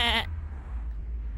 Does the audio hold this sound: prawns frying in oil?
no